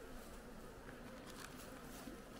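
A soft, steady drone of many calm honeybees buzzing together around a hive on a warm day while pollen comes in, faint and continuous.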